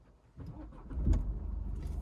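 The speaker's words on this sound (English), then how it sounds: "Now let's turn on the car." A 2019 BMW 116d F20 diesel hatchback cranks and starts, with a low engine rumble rising after a brief starter whir and settling into a steady close idle.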